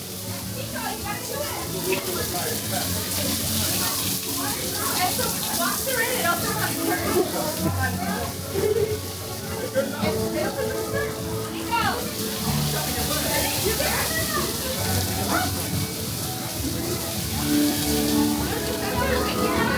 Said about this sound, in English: You have the water. It's going down until you go through it, and then it stops